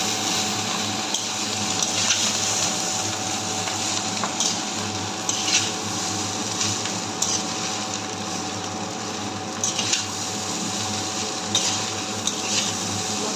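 Spice masala fried and stirred in a pan gives a continuous, close, dense sizzling hiss with occasional scraping stirs, steady throughout with no talking.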